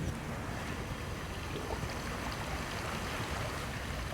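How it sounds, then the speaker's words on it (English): Steady rushing water flows without pause in the Whispering Fog video game after a valve is turned on, a constant broad wash of sound with no voices. "That sounds like we've got water flowing."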